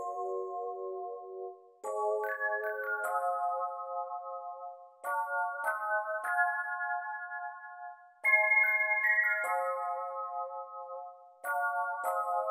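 An XV5080 see-through EP electric piano preset plays bright, bell-like chords in a pluggnb beat, struck in short rhythmic phrases with ringing sustain and small gaps between groups, alone with no voices.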